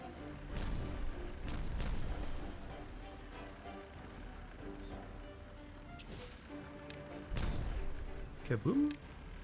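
Explosives detonating in the beaver colony-building game Timberborn, with two deep, booming blasts several seconds apart over a steady rumbling background, and a voice speaking briefly near the end.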